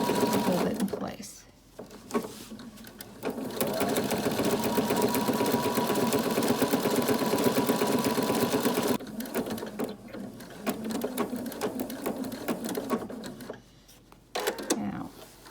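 A sewing machine runs in long continuous stitching bursts as fabric is guided through it, with brief pauses between runs; a person talks over the steady mechanical whir throughout.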